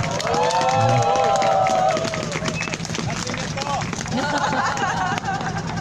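Crowd at an outdoor Wednesday rally clapping and cheering for a scholarship student, a busy mix of applause, shouts and murmuring voices that stays fairly steady throughout.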